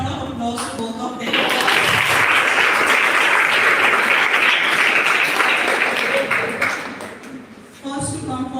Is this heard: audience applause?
yes